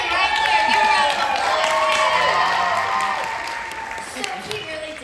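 A crowd at a student presentation competition gives a round of applause for a grandfather, a loud dense wave of clapping with some cheering and voices mixed in, tapering slightly toward the end.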